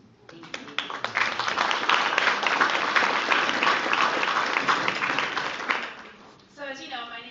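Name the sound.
audience applauding a speaker at a trade forum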